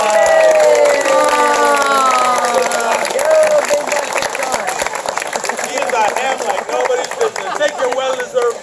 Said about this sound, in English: you get a whole big round of applause